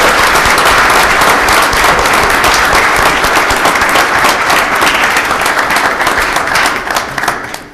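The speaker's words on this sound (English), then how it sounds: "I'd like to offer a round of applause for these individuals." A township board meeting audience gives a loud, sustained round of applause, dense overlapping clapping from a roomful of people that tapers off near the end.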